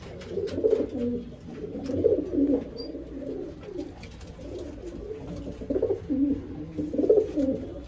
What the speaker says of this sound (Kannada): ಅಕ್ಕಿಗಳು ಇಲ್ಲೂ ನೋಡ್ಬೋದು